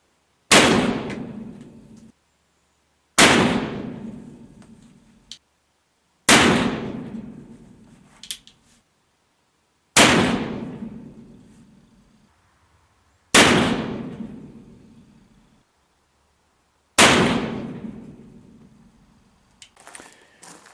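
Six sharp, loud shots from a Pietta 1860 Army black powder revolver fired at a target, spaced about three seconds apart, each cracking then ringing out into a decaying tail.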